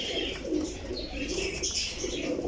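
Golden cross pigeons, including a Bateri female, coo and call continuously at close range, with soft flutters and chirps over a steady background.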